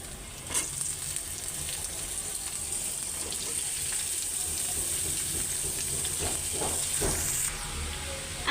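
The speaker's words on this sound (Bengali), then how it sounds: "এই যে ভাজিটা বসাই দিতেছি, পেঁয়াজ লাল হয়ে গেছে, তো ভাজিটা দিয়ে দিব এখন" Chopped cauliflower and potato go into a pan of browned onions, a loud, continuous hissing sizzle with scattered crackles and stirring clatter up close, nobody speaking.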